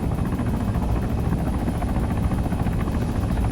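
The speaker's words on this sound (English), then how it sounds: "Another helicopter." In the Arma 3 video game, a helicopter in flight gives a continuous heavy rotor beat and engine drone, loud and close throughout, with no one talking.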